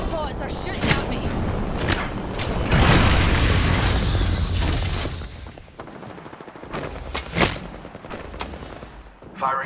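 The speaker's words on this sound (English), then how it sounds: "Bomb bots are shooting at me." Bomb bots in Apex Legends open fire in a loud, dense barrage of booming shots and mechanical bursts, with a voice talking over the clatter.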